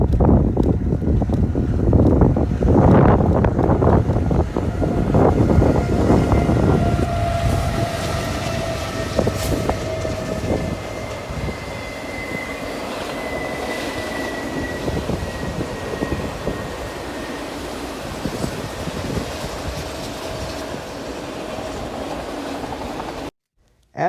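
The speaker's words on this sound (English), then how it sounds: "BNSF 7042 runs on approaches from the previous trains with auto racks in tow" BNSF 7042 rolls past hauling auto racks, a loud close rumble of wheels and cars that slowly eases into a steady clatter, with wind buffeting the microphone.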